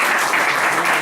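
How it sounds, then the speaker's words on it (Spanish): Audience applause at a council of presidents meeting, a short continuous patter of many hands clapping, loud and even. "Un aplauso a la compañía."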